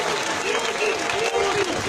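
Dense, steady applause from a large crowd at a political youth rally in Côte d'Ivoire, clapping continuously and loudly throughout, with crowd voices mixed in.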